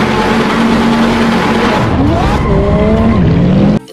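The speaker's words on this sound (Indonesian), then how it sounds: "Wih, ada mobil balap." A toy race car gives out a loud electronic racing sound effect: a sustained revving engine tone with pitch sweeps and tire-squeal skids, which cuts off abruptly just before the end.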